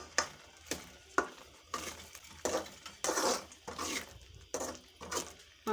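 Habshi halwa mixture being stirred in a pan after spoonfuls of ghee are added: soft, repeated scraping strokes and faint sizzling, quiet and close, in an uneven rhythm without speech.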